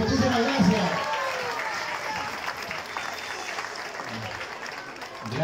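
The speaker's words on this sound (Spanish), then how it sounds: "fuerte los aplausos" Audience applause at a neighborhood political rally, a dense, continuous wash of clapping from a crowd, with faint voices underneath, holding steady throughout.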